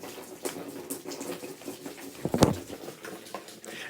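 Liquid is poured out onto a carpeted floor indoors, giving a soft, wet pattering that builds into a brief, heavier splash near the end before trailing off.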